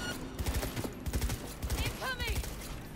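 Gunfire in Cyberpunk 2077, several quick bursts of shots in rapid succession, mixed with game sounds and voices.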